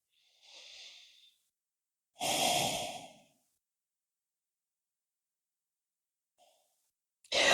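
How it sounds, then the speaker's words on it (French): Deep, slow breaths during a yoga pose, heard close and alone in a quiet room: a soft inhale, a longer, fuller exhale after a pause, then another breath starting at the end. "Une respiration profonde."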